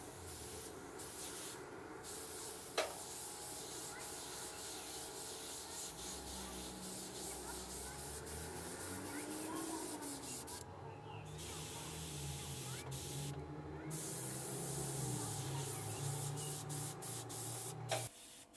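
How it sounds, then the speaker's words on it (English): A Harder & Steenbeck Evolution CRplus twin-action airbrush sprays white paint for fur detailing, giving a steady soft hiss with faint clicks and brief gaps, heard close and quiet throughout. "simply use the second unit of your Twin Action airbrush with white color"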